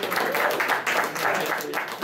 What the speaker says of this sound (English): Give a round of applause again, man.